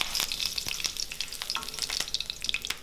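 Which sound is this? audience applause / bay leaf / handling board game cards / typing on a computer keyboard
bay leaf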